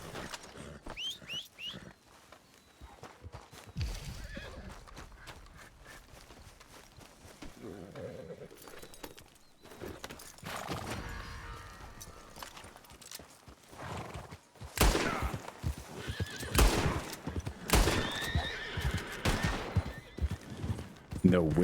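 Horses in a video game whinny and clop their hooves in irregular bursts, mixed with game noises and spells of loud rattling fire, with someone talking over parts of it.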